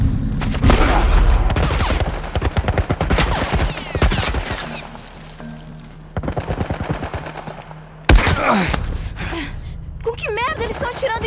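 A military gun turret in The Last of Us fires long, loud bursts of rapid automatic gunfire, with sharp impacts and pauses between volleys, while characters shout and gasp in between.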